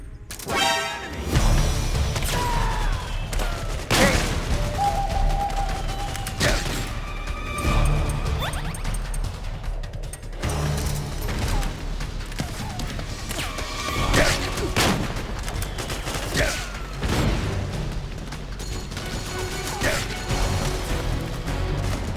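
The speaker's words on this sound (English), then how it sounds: "Shots fired!" Metal Gear Solid 4 gameplay, Act 2, with bursts of gunfire, crashes and impacts layered over a dense, loud action soundtrack, repeating in sharp hits throughout.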